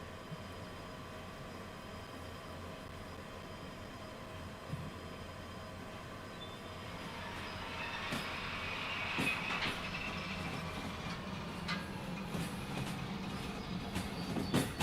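A train in the Derail Valley game rolls along its rails with a steady low rumble that grows louder and rougher partway through. Scattered clicks and clatter ride on top.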